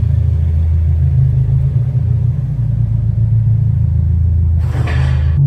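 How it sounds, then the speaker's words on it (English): A Subaru WRX VB driving on the road, heard from inside as a steady low engine and road rumble that stays even throughout, with a brief brighter whoosh near the end. "I'm going to hop in the car and we'll head out and drive over to Carbononics"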